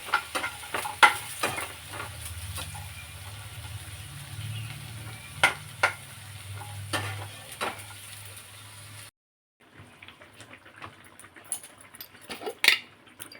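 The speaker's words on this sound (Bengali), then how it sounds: "এবারে একটু নাড়িয়ে দেবো আর এদিকে বড়িটা একটু ভেজে নিচ্ছি নাহলে পুড়ে যাবে" A spoon clinks and scrapes against a pot as a curry is stirred and bori lentil dumplings fry alongside, with sharp metallic knocks over a low sizzle, then a brief silence and quieter scattered clatter.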